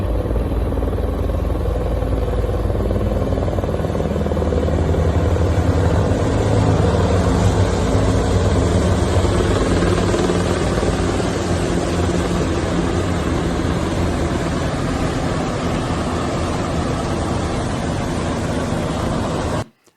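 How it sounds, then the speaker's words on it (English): Several low-flying military helicopters, three of them overhead, make a steady, loud rotor and engine rumble that holds for the whole stretch before cutting off abruptly at the end. "10 possible military helicopters"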